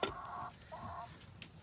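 Broody hens cluck inside a coop: two close, nasal clucks in quick succession, then a faint higher call near the end.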